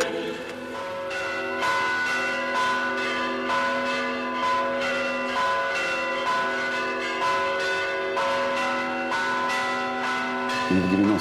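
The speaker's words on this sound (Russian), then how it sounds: "Звонят колокола." Church bells ring at the Peter and Paul Cathedral in Peterhof, a steady series of resonant, overlapping strikes with long ringing tones, loud and continuous throughout.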